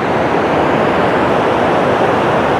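Kelaghagh waterfall pours down into a deep gorge, a loud, steady, broadband roar of falling water that fills the whole stretch without pause or speech.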